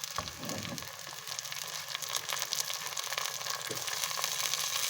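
Tomatoes added to garlic and ginger sizzle and fry steadily in a hot pan for an aloo matar dish, a continuous crackling hiss that grows slightly louder, with no talking.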